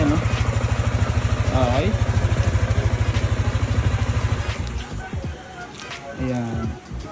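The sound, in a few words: Yamaha Sniper 155 motorcycle engine starting and idling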